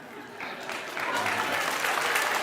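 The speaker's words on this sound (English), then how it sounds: "For what reason is there clapping?" A television studio audience breaks into applause that starts thin and swells into a full, steady clatter of many hands, with a voice faintly mixed in.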